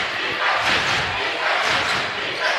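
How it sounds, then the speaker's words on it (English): Basketball crowd at a Class 3A high school game chanting defense in a packed gym, a steady loud roar of massed voices with rhythmic swells throughout. "Crowd chanting defense."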